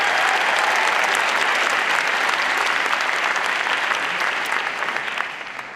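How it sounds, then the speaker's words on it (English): Sustained applause from a large audience at a university event at Stanford, loud and dense clapping that holds steady for several seconds before beginning to taper off near the end. "So please give them a big round of applause."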